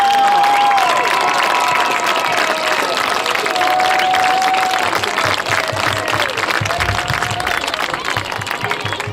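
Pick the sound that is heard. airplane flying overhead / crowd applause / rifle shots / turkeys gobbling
crowd applause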